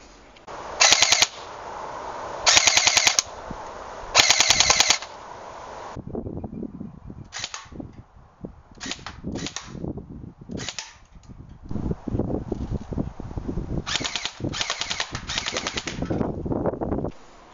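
A G&G L85 AFV airsoft rifle fires outdoors, first in three loud sharp bursts of rapid shots, then in many irregular single shots and short strings, close and dominant with no voices.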